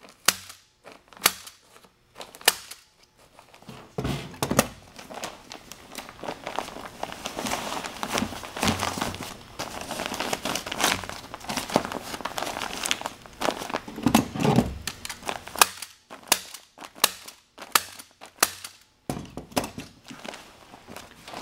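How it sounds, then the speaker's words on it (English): Insulation staples are driven through the foil backing of pipe insulation. Sharp snapping staple shots repeat at irregular intervals, mixed with crinkling foil, rustling and thumps of handling throughout, with no speech. "Notice he's pulling the insulation away from the backing so that you don't have to staple through but one layer of foil."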